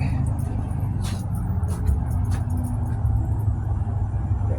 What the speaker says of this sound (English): So, that's the bus I wanted.